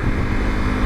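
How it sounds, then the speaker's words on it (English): Ducati Multistrada V4S 2021 with a V4 engine and Akrapovic exhaust, a steady loud low engine drone with a dense rumble and some wind buffeting, continuous for the whole stretch. "You can't beat a V4 engine for noise though."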